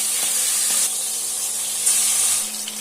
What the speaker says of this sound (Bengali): তেল গরম হয়ে গেছে, এবার একে একে মাছগুলোকে তেলে ছেড়ে দেব।